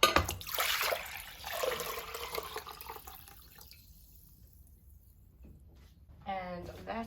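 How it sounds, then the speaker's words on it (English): Cooking water from soy sauce chicken poured into a large measuring container, a splashing, gurgling flow that is loudest at first and tapers to a quieter trickle, followed by a short rise of sound near the end. "I'm going to pour the water into a large measuring container"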